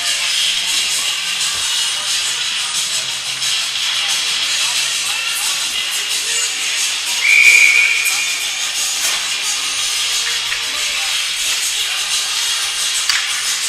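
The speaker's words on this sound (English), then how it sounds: "He covers it for a whistle." A referee's whistle gives one short, bright blast midway through an under-18 Major ice hockey game between the March And Mill Co Hunters and the Cape Breton West Islanders, over steady, hissing arena crowd noise.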